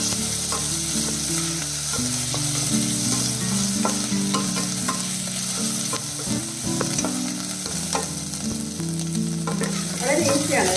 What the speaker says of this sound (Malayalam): സവാള ഒന്ന് വഴറ്റിട്ട്